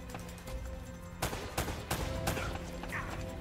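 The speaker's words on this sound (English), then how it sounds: "Let's not have the gunfire." Several sharp gunshots from the video game Uncharted: Drake's Fortune crack in quick succession over a steady electronic hum, fairly faint and distant, like game audio playing in the background.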